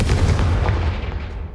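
A Confringo blasting spell cast in the Hogwarts Legacy video game gives a loud, deep booming roar that rumbles steadily for over a second and then eases slightly, with no talking.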